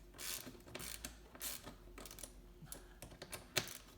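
Small clicks and ratcheting as hose clamps on the MAF sensor intake of a 2005 Hyundai Santa Fe are retightened with a 10mm socket wrench, a close, irregular series of light mechanical ticks and rattles with no talking.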